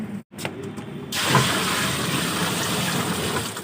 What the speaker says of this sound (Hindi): तो पहले मशीन में पानी डालेंगे।